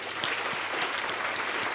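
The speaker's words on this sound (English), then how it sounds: "we deserve a big round of applause" Steady, dense applause from a conference audience at a 2023 public-finance young professionals' summit, filling the clip with close, even clapping and no talk over it.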